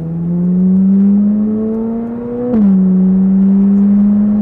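A Corvette Z06 fitted with an Eventuri intake and Paragon exhaust drones steadily as it drives, rising gently in pitch, dipping with a short shift-like break, then settling into a smooth, loud cruise from inside or near the car.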